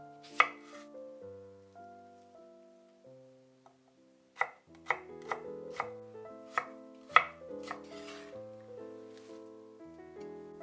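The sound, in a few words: cutting salad leaves and cucumber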